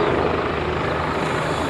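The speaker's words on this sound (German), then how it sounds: "die Spezialkräfte steigen direkt in den Hubschrauber ein" A helicopter hovers at the ILA Berlin air show at Schönefeld, special forces boarding beneath it; a loud, steady rotor and engine roar fills the air without pause.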